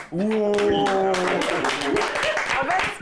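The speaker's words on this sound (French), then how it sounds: "je veux des applaudissements pour lui là" Audience applause for a guest on a French-language evening TV show, a burst of clapping that starts abruptly and continues steadily, with a voice speaking loudly over it at the start.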